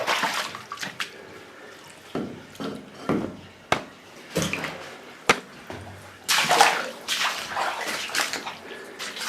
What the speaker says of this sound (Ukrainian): Мабуть, тут витікає десь.